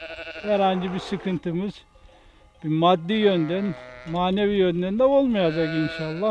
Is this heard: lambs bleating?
yes